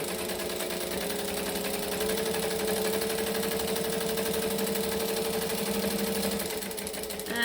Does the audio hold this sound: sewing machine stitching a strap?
yes